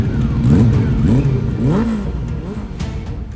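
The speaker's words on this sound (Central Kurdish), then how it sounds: "تەماشاکە ئێستا ئەو ماتۆڕە بەخۆی بیلادی دەنجی وەسەتە هەیە" A motorcycle engine revving in traffic, several rising and falling mid-pitched revs close by over a continuous engine drone.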